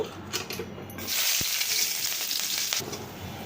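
Chopped onion fries in oil in a pan, a steady close sizzle that swells after a quieter start, broken by a sharp utensil tap and a few stirring scrapes, with no talking.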